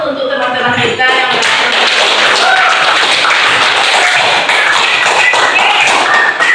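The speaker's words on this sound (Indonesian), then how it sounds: "Silakan kasih aplaus untuk teman-teman kita" Classmates in a vocational school classroom clap together in a dense, steady round of applause that fills the whole stretch with no pause, close and loud.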